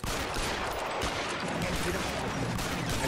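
Dense, continuous gunfire fills a shootout in the L.A. Noire video game, with rapid overlapping shotgun blasts at steady high loudness throughout.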